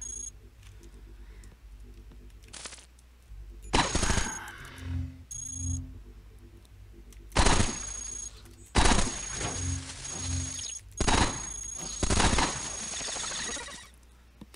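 Gunfire in the robot roguelike Cogmind comes in several loud, sharp bursts separated by short pauses, with softer mechanical blips between the volleys. No voices are present.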